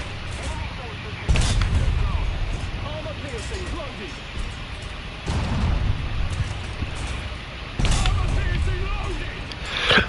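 Tank cannon fire from a 75 mm gun in War Thunder, with a Dicker Max tank among the combatants: three heavy, booming low blasts spaced a few seconds apart, each ringing out over steady engine rumble and battle noise.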